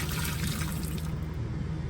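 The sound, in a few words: boiled water poured over oxtails to clean them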